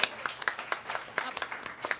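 A studio audience at a New Zealand panel show applauds, with fairly quiet, sparse claps in an uneven rhythm and a voice speaking underneath.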